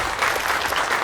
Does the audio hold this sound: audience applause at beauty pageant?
yes